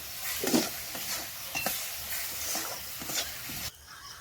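Mango laddu mixture is turned in a pan with repeated close scrapes and a sizzling hiss underneath. The sizzle drops away abruptly near the end, and nobody speaks.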